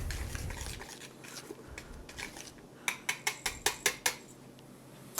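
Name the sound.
pre-mixing dry ingredients for cinnamon rolls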